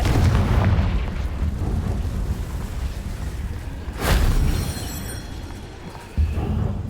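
Confringo blasting spell from Hogwarts Legacy: a sustained rumbling blast with a sharp bright burst near the middle, then a second low thump toward the end, loud and booming with no speech.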